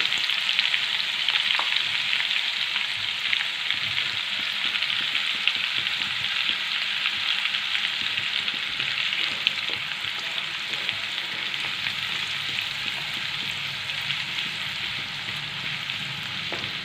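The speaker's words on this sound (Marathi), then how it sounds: "तर हा लसूण आपल्याला एकदम तेलामध्ये मस्त लाल रंगावरती परतून घ्यायचा आहे" Crushed garlic fries in oil for pav bhaji, a steady, dense sizzle with a constant hiss that holds even and unbroken for the whole stretch, close and moderately loud, with no voices.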